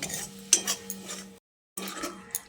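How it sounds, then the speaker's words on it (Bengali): Sesame paste being stirred into spices in a pan, heard as soft scraping strokes of a utensil with a light clink of metal, briefly stopping and then starting again. "এবার তিল বাটাটা দিয়ে মশলার সঙ্গে আবারও ভালো করে মিশিয়ে নিচ্ছি।"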